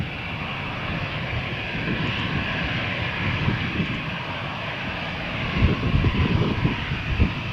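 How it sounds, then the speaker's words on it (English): An EasyJet airliner taxiing for takeoff at Malaga Airport on a stormy morning, a steady broad engine roar held throughout, growing slightly louder and rougher toward the end. "We have here an EasyJet from Malaga to Berlin, taxiing for takeoff"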